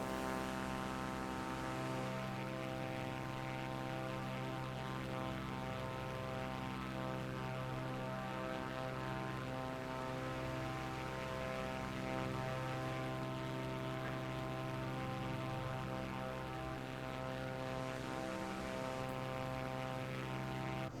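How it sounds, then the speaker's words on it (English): A propeller-driven fixed-wing airplane in steady cruise flight, heard from inside as a loud, continuous engine drone with a layered harmonic hum that holds even throughout, with no talking over it. "I like this plane, you know, it's a steady flyer."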